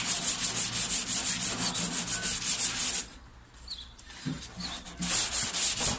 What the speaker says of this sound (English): just 80 grit, flat away